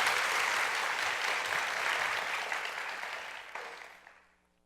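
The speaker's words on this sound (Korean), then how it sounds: "지금까지 토크에 응해주신 우리 세 분의 연사님들께 큰 박수 부탁드리겠습니다" An audience at a nonprofit foundation forum applauds its speakers, a dense, steady wash of clapping that holds for several seconds, then thins and fades away toward the end.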